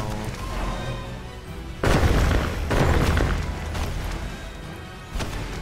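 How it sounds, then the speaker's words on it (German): Magic explosions in the video game Magicka: deep booming blasts and crashing bursts, loud and close, with one big hit near the start and another toward the end over a rumbling background. "Und dann wegrennen, weil die Dinger explodieren."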